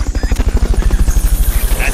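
A helicopter in the video game Metal Gear Solid: Peace Walker, its rotor beating in a loud, rapid, even chop close by for the whole moment.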